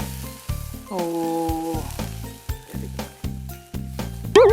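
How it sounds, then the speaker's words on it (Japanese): Spare ribs sizzle on a grate over a Monoral campfire stand at a garden barbecue, a steady close hiss under background tones, with a brief voice exclaiming. "音、もうこのジュージュー音が美味しそう"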